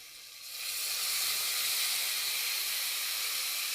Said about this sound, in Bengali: এবার এই জলটা কুমড়োর মধ্যে দিয়ে দেবো।